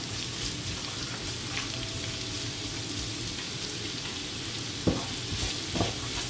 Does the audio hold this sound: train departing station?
no